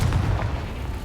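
A deep, rumbling fire-spell explosion from a wizard video game, heard as a continuous low boom that fills the whole short moment with no talking over it.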